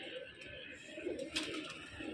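A pigeon coos softly in a couple of low, throaty bursts, with light background noise and faint voices around it.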